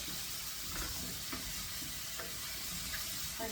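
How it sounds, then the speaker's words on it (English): Mushrooms, about a pound of them, sizzling steadily in a pan as their juices cook off, with a constant frying hiss and a few soft clicks from occasional stirring, close and fairly quiet with no talk. "You're going to evaporate all of the juice from the mushrooms in this before we move to the next stage. And stir it periodically."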